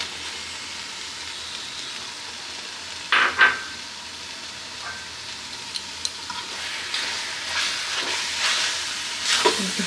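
Taro leaves (kochu shak) sizzle in a pan as a bowl of coriander goes in, a steady soft frying hiss with a few brief stirring scrapes and clinks over the top.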